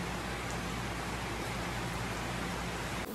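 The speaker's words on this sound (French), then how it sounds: "Et il pleut, là aujourd'hui, il pleut toute la journée. Mais c'est une pluie douce" Gentle, steady rain falls in a Mexican jungle, a soft continuous hiss of drops with no voices, cutting off abruptly at the very end.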